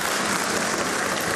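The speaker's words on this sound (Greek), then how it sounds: "Χειροκροτούν οι περισσότεροι συνάδελφοι της Νέας Δημοκρατίας" Members of the Greek parliament clapping in the chamber, a brief burst of dense applause heard alone at steady volume.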